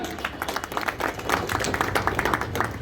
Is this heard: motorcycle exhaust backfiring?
no